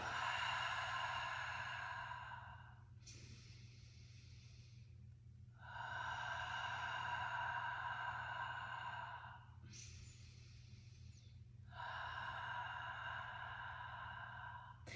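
Person inhaling and exhaling slowly during a breathing exercise, with three long, soft, airy breaths of several seconds each in an even rhythm, close but quiet over a faint low hum.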